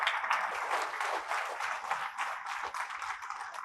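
A crowd at a Guru Purnima celebration claps in thanks, giving a soft, even wash of applause that carries on faintly throughout without a break.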